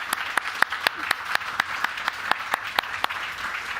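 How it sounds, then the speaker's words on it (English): Applause for the speakers at a European intellectual property conference: sparse, rhythmic claps that sound like a small group or a few people clapping steadily, moderately loud, with no talk over them. "So I would like to have a last round of applause for our fantastic speakers."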